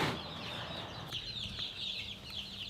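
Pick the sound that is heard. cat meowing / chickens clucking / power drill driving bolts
chickens clucking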